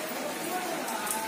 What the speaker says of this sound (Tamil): பெங்களூரில் நல்லா மழை பெய்யுது.